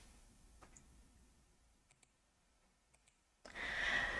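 Sparse computer mouse clicks during a MongoDB software install, a few faint single clicks in a quiet room before a louder burst of noise at the end.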